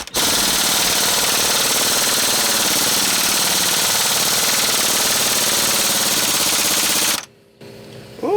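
An impact wrench hammers on a tight nut on a 1972 Ford 4x4 Highboy, a loud continuous rattling buzz held for about seven seconds before stopping abruptly, followed by quiet shop noise.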